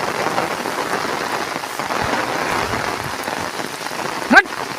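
Heavy monsoon rain falling in the Konkan countryside, a dense, steady close patter on surfaces throughout, with a brief louder knock near the end.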